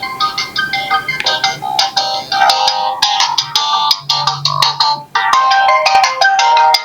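A phone ringtone plays loudly and continuously, its electronic melody repeating in bright bursts, triggered by a spoofed incoming call that displays the owner's name.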